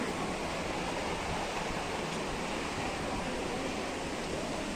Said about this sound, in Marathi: धबधबा, हा धबधबा